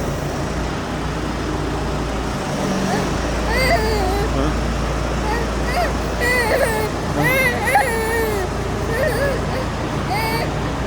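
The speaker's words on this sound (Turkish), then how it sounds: "Bak bak bak Johnny traktör çalıştırdı amca" A John Deere tractor engine idles with a steady low rumble, while a child and an adult talk over it at close range.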